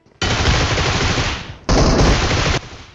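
Groza rifle fire in PUBG Mobile, two loud sustained automatic bursts, the first about one and a half seconds long, then a short gap and a second burst of nearly a second, close and dense.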